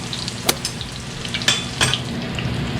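Thinly pounded chicken schnitzel fries in a pan, giving a steady close sizzle and bubbling with a few sharp crackles and spatters, no talk.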